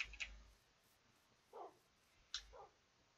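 Dogs in the video game Minecraft give a few short, sparse yips and whimpers, brief and faint with quiet gaps between them.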